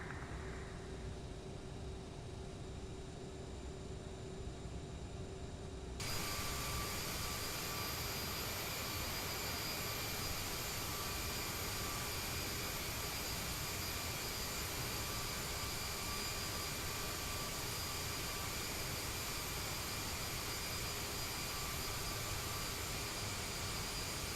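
CRJ-900 jet engines spool up and accelerate in Microsoft Flight Simulator, a steady broadband roar that grows louder after a few seconds, then holds as an even, continuous whine.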